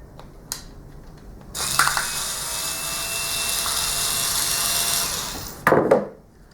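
A screw is backed out of an electrical outlet with a hand tool, giving a steady close grinding rasp of several seconds bracketed by short clicks and knocks.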